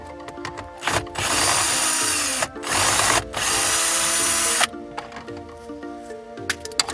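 A power tool whirs in loud, sustained bursts while removing bolts from a 2004–2011 Toyota Sienna dash panel, with rattling, clicking handling noises between runs.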